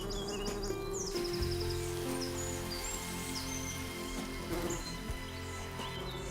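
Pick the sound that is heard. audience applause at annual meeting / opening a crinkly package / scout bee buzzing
scout bee buzzing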